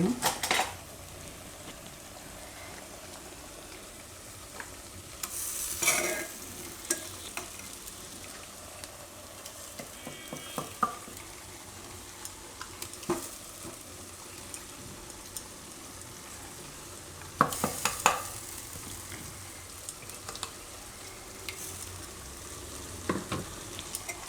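Green masala stirred and fried in oil for a Gujarati brinjal and potato gravy curry, with soft continuous sizzling broken by scattered scrapes and clinks of a spoon against the pan, louder bursts near six and eighteen seconds.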